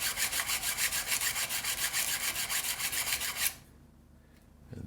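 Block plane blade rubbed back and forth on a sharpening stone, a rhythmic gritty rasping of steady strokes, close and loud, stopping abruptly near the end.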